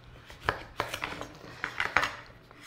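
A knife cuts the top and bottom off a butternut squash on a board, a few separate sharp chopping knocks with softer clatter between them, close and moderately quiet, no speech.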